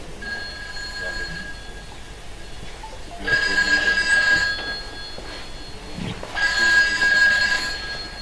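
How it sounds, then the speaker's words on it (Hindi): An old-style telephone bell rings in two loud, sustained bursts with a pause between them, set in a stage play at a theatre festival. "तभी फोन की घंटी बजी।"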